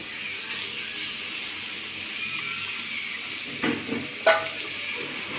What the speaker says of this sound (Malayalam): നല്ലോണം മിക്സ് ചെയ്യുക ഒന്ന് ചെറുതായിട്ട് വാടുകയും ചെയ്യണം